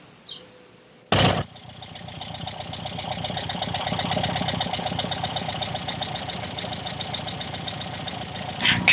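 Porsche 356/912 engine fitted with Weber carburetors idles close by with a steady, fast, even pulse that holds for about eight seconds after a brief sharp burst at the start, while the idle mixture screws are adjusted. No one speaks.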